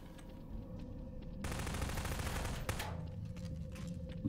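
Rapid gunfire from a shotgun trooper in a video game, a sustained burst of rattling shots that starts abruptly, runs for over a second, and ends with a sharp report under a faint, quiet background.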